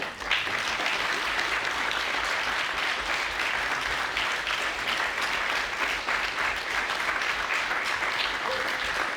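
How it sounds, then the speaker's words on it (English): Steady, dense applause from a lecture audience after a talk by graphic designer Linda van Deursen, sustained and even at close range for the whole stretch, with almost no voices. "That was a warm applause."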